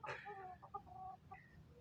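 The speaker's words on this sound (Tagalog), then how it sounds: "Ayan ang manok panabong." A gamecock gives a few short, soft clucks close by, quiet and brief, with no other sounds around.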